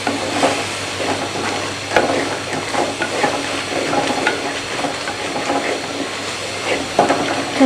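Masala for aloo methi frying and being stirred in a pan, a steady close sizzle broken by intermittent scraping and clinking strokes, with no talking.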